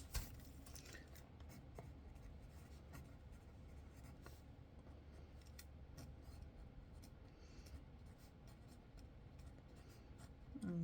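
Handwriting on paper, a pen scratching and scribbling steadily in close, quiet strokes with small taps, as a prompt is written down by hand without talking.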